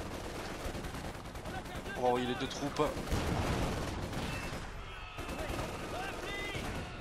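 Grenade and gunfire in Company of Heroes 2 crackle as scattered shots and bursts under someone speaking French, with a louder blast around the middle before the firing settles to a steady background rattle.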